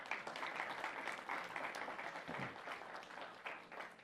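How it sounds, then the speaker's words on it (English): Audience applause fills a Little Rock School District scholars reception, a steady, fairly soft wash of many hands clapping that holds evenly for about four seconds with no voices on top. "You can applaud for that"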